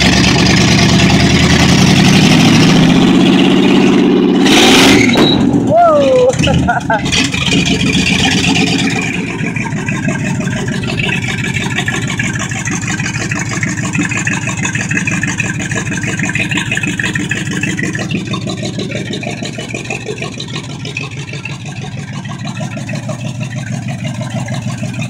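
A Chevy engine with a loud muffler starts up and runs, a heavy low rumble that settles into a steady, fairly close idle lasting about twenty seconds, with no talk over it.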